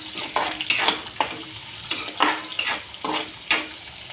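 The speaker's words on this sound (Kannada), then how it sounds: "ಎಣ್ಣೆ ಕಾದೈತ್ರಿ ಇದು. ಉಳ್ಳಾಗಡ್ಡಿ ಹಾಕಿದ್ರೆ ಚೆನ್ನಾಗಿ ಫ್ರೈ ಮಾಡ್ಬೇಕ್ರಿ." Onions frying in hot oil in a pan for paneer masala give a close, crackling sizzle broken by regular scraping stirs, with no voices.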